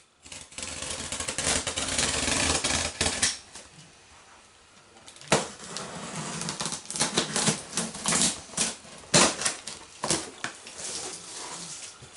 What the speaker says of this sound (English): Now I got my Stanley knife to cut open the box, then we can see what's inside.